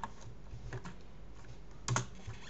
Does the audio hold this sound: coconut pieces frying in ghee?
no